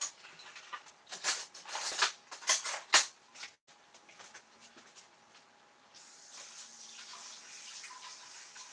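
Water is poured into jars in a home kitchen while making strawberry jam, giving a few short splashy pours in bursts, then a quieter steady trickle toward the end.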